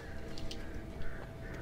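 Crows cawing in the Alan Wake Remastered video game, several quick harsh calls scattered over a dense, steady background rumble at moderate level.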